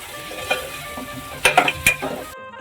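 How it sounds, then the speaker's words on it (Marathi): Mutton, onion and oil are stirred together in a pan, with a quiet sizzle beneath a few sharp scraping and clinking strokes of the spoon against the pan. "कांदा आणि तेल आणि मटण पूर्णपणे एकजीव एकत्र झाले पाहिजे म्हणून आपण पूर्णपणे त्यांना एकजीव करूया"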